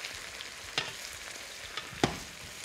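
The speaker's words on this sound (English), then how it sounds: "That's the hallmark of really good stir-fry wok cooking." Beef stir-frying in a hot wok gives a steady broadband sizzle with two sharper crackling bursts, close and moderately loud, with no voices.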